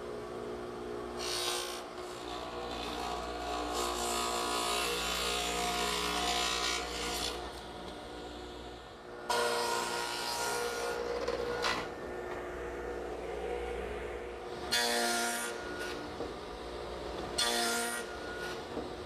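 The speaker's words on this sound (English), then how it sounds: "I've set up a stacked dado head cutter in my radial arm at about 5/8 of an inch width, and I'll just take my time and make all the cuts" A radial arm saw fitted with a stacked dado head set to about 5/8 inch width cuts a dado in wood, a loud sustained whine that drops away briefly and then returns in several further passes.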